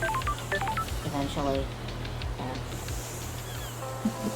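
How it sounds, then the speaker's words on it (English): A phone rings in the video game Paradise Killer with a string of short, electronic tone-like chirps, under a low background hum and a voice speaking. "Oh, that's my phone."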